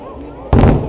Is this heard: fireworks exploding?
yes